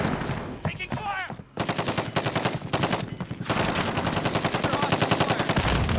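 Rapid automatic gunfire in the video game Call of Duty: Warzone, dense bursts of shots that carry on almost nonstop, with a short whooshing effect early on.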